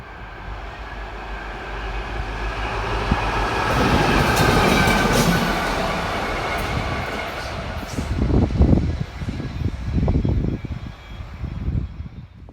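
A model train with a Bachmann full brake van running on a layout, producing a steady rolling rumble that swells in the middle, then gives way to rhythmic clicking of wheels over rail joints, close and fairly loud.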